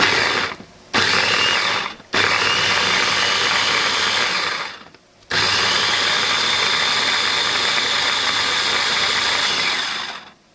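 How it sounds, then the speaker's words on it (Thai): An electric blender whirs loudly and steadily while blending ingredients with RO, mineral or distilled water for a blackhead face mask, cutting out briefly in short pauses before running on. "เดี๋ยวเราปั่นกันค่ะ เราปั่นกันนะคะ"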